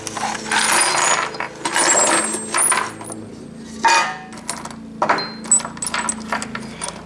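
Steel cutters, drill bits and a center drill, high-speed steel pieces, tumbling out of a coffee can onto a workbench, in several bursts of metallic clattering and jingling with scattered small clinks in between.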